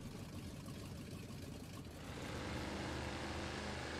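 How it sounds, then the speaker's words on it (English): A 1974 GWC GH 200 old pickup truck engine idles in the SnowRunner video game, a steady low rumble that swells slightly louder partway through and then holds, with no talking. "That sounds like an old pickup truck engine"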